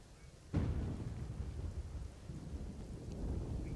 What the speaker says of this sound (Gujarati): અમદાવાદના અલગ અલગ વિસ્તારોમાં વરસાદ વરસી રહ્યો છે